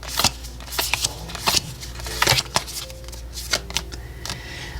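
Oracle cards being shuffled by hand for a tarot reading, a run of crisp riffling bursts and soft flicks at an uneven rhythm, close and fairly loud with no talking.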